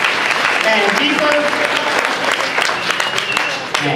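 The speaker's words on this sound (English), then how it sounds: "Give our volunteers a big round of applause" Audience at a stage hypnosis show clapping for volunteers on stage, a sustained round of applause with a voice speaking over it and a few brief whistles.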